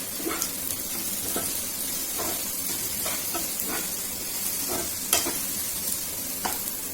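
Potatoes frying in a pan give a continuous sizzle and hiss, broken by repeated scraping stirs of a spatula, close and moderately loud with no one speaking.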